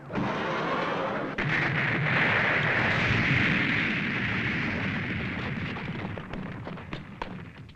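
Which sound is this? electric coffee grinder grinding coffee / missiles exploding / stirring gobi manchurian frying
missiles exploding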